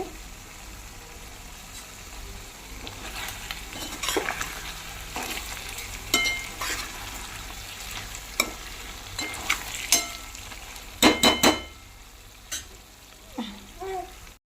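Garlic frying in a pan for chicken fry, a steady oil sizzle with stirring scrapes and a few sharp clatters of a utensil against the pan, close up.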